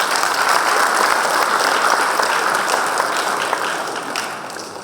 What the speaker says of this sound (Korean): 장의택님, 큰 박수로 모시겠습니다